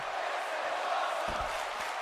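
A wrestling crowd at a Friday night title-defense show cheers in a steady, dense roar, with a couple of low thumps toward the end.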